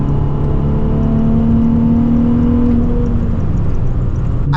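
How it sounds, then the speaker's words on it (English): A manual-transmission car drops down into fourth gear, its engine a steady, loud whirring drone with rising and falling harmonic tones, closing with a brief burst near the end. "downshift, fourth."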